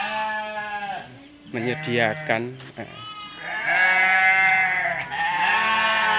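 Texel sheep in a pen bleat loudly and repeatedly at close range, with overlapping wavering cries, while someone talks briefly among them.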